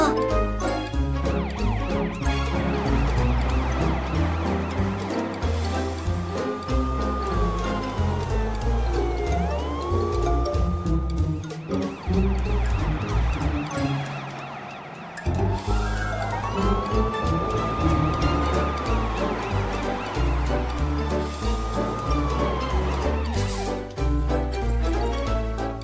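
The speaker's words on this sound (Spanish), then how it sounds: "Ahora Morpho puede ver lo que un verdadero camión de bomberos puede hacer" A cartoon fire truck's wailing siren rises and falls repeatedly over loud, dense background music, continuous throughout with a brief dip near the middle.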